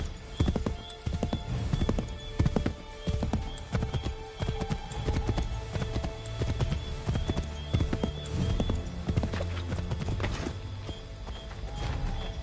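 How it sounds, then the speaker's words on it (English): A horse gallops in the Assassin's Creed III video game, its hooves beating a rapid, continuous clip-clop rhythm at close range over ambient game sound, with a brief whinny. "Get back on the horse, Connor."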